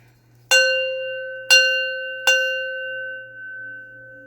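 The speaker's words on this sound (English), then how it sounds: "I'm gonna go ahead and ring my bell." A small bell is struck three times at uneven intervals, each clear ring lingering and fading, in a quiet room.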